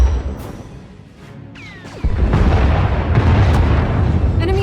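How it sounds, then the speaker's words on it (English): Enemy Thranta-class warship in SWTOR opening fire with turbolasers and missiles: a sharp blast about two seconds in, then a loud, sustained roar of booming weapon fire with faint zipping laser streaks over it. "Enemy is firing. Turbo lasers, missiles, and what looks like transport pods."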